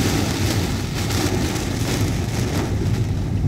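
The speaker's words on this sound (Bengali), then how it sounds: "এখন অনেক ঝড় হচ্ছে," Heavy rain pounds down during a storm in the desert at Mecca, a dense, loud, unbroken roar of falling water with no let-up and no voices.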